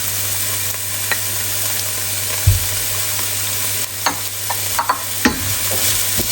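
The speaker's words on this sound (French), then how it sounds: "Donc on fait revenir nos oignons" Onions and butter sauté gently in a pan over steady heat, giving a constant close sizzle with a low hum beneath it and a few scraping stirs and light knocks as they are moved around.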